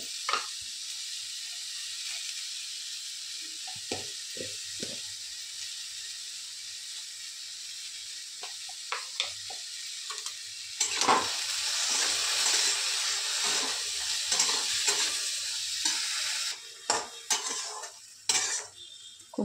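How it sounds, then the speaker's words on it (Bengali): Taro and potato with salt and turmeric are stirred in a frying pan, a continuous hissing sizzle that swells midway, punctuated by repeated sharp scrapes and knocks of a spatula against the pan. "খুব ভালো করে নাড়িয়ে নিলাম"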